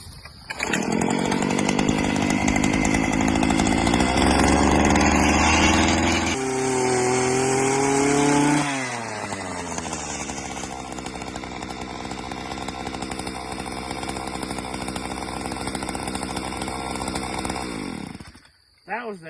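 A farm auger's engine drones loudly and steadily while digging post holes, its pitch dipping and shifting midway as the bit bites into the ground, then it cuts off abruptly near the end.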